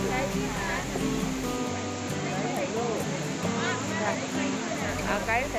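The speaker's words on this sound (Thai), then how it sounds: "มีลำธารน้ำตกนะครับ" A forest waterfall stream on the Kew Mae Pan trail at Doi Inthanon rushes steadily and continuously throughout. People talk over the water noise.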